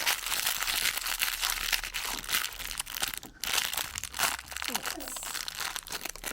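A big plastic bag crinkles and rustles continuously and loudly, close up, as a toy box package is opened, with people speaking over it.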